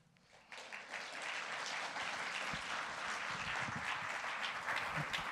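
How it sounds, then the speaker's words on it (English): Audience at a physics symposium applauding, a steady wash of many hands clapping that starts soft, swells within the first second and holds at an even level throughout. "Why don't we give a round of applause?"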